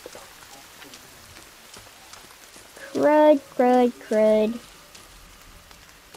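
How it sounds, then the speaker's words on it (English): Rain falls steadily in the survival game The Forest, a soft constant patter behind a voice that speaks briefly in three short bursts midway through. "It's raining."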